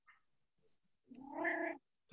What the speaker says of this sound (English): If we hear the cat, we must see the cat.